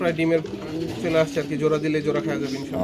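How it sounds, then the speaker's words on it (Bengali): Lahori pigeons on a farm coo in close, repeated throaty phrases, mixed with chirping from young birds. "এখানে আছে দুইটা বাচ্চা কবুতর একদম চিচি করে"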